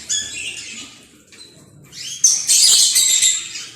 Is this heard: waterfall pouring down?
no